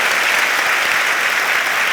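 A large audience at the Montevideo International Book Fair claps steadily through an Isabel Allende talk, a dense, even wash of hands that stays loud from start to finish with no voices breaking through.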